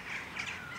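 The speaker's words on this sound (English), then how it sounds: "every now and then you can hear the crows and the smaller birds trying to get rid of them" Crows squawk against smaller birds harassing them, a faint, distant burst of harsh calls and chirps outdoors over steady background noise.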